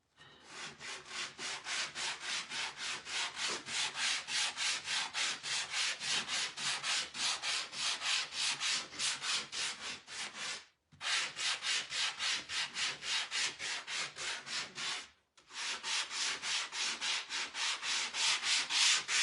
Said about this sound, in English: All right, I'm gonna lightly sand it.